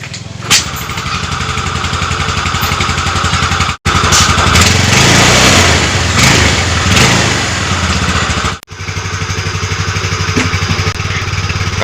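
A Yamaha Xeon motorcycle engine, just repaired after burning oil, starts and runs loud and close with a steady mid-pitched idle chug, brief cut-outs and a couple of rising revs; no talking.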